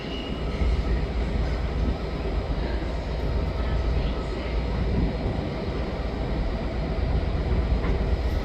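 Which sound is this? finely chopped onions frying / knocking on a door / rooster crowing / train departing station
train departing station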